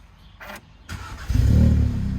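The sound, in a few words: Audi S3 engine starting up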